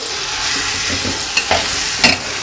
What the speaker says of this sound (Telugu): వంకాయ కూర అయితే పోపు వేసేసాను